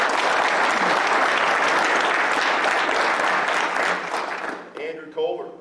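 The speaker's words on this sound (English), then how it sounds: "Give him a round of applause." Loud, dense audience applause at a football awards ceremony, a steady wash of clapping for several seconds that tapers off, with voices briefly heard as it dies down.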